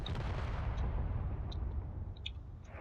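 Cannon fire in the space battle game Drone Wars, a dense rumbling barrage of booming shots blending into a continuous low roar, with a few sharp high blips on top.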